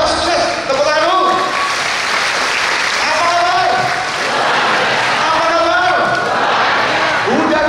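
Crowd applause fills the room at a Dhamma sharing talk, mixed with overlapping voices and cheering that rise and fall over the steady clapping.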